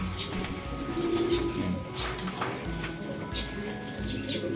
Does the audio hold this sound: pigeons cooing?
yes